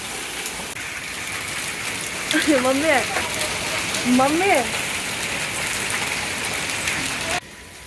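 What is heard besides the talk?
rain falling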